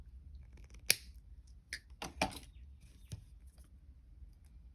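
Small cutters snip the little tail off a wire loop while making a chain link, giving a handful of sharp, close clicks spaced apart against a quiet background.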